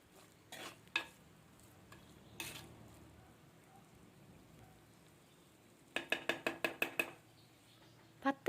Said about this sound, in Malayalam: കൊഞ്ചിട്ടതിന് ശേഷം നമ്മൾ മസാലയുമായിട്ട് കൂട്ടി യോജിപ്പിക്കുക. നല്ല രീതിയിൽ ഇളക്കി യോജിപ്പിച്ചതിന് ശേഷം